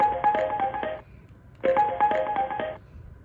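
Cisco desk phone ringtone of the pop style plays as two bright, tonal bursts of about a second each, separated by a short gap, loud and alone with no talk.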